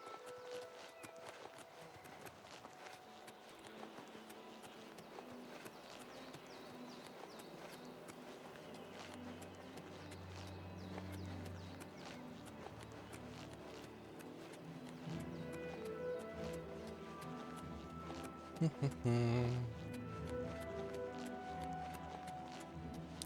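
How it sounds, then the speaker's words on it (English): Several horses walk about outdoors in the game Oblivion Remastered, with faint hoof clops and footsteps under quiet ambient music, then a brief neigh near the end. "Oh, lots of horses here now."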